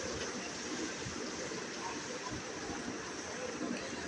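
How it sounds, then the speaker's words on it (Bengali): Cardamom, cinnamon and bay leaves fry with onion in hot oil for khichuri, giving a steady, soft sizzling hiss that continues evenly throughout. "মশলাগুলোকেও এবার পেঁয়াজ ও তেলের সাথে ভেজে নেব।"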